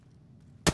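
Gunfire in the video game Apex Legends, a sudden loud burst of two or three rapid shots arriving at the very end after near silence.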